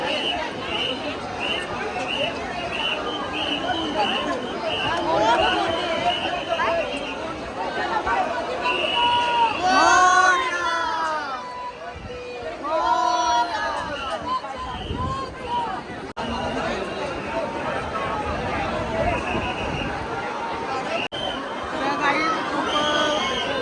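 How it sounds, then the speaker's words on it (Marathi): Large crowd packs the Lalbaugcha Raja Ganpati darshan in Mumbai, with a dense, continuous babble of many voices, occasional louder nearby speech and shouts rising and falling throughout. "आणि खूप गर्दी आहे."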